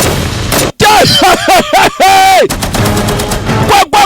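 Rapid gunfire and machine-gun bursts from a dubbed action war film crackle loudly amid shouting and a strained, pitched voice, with brief silent gaps between the chaotic bursts.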